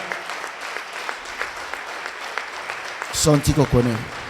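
A church congregation claps and cheers in praise of God while a voice exhorts them loudly, then a singer's phrase rises over the clapping near the end.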